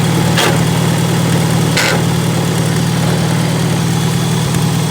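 A Farmall Super A tractor engine idles steadily and loudly up close, a low rhythmic chugging throbbing without pause, with a couple of brief clanks early on; the clutch is suspected of needing adjustment.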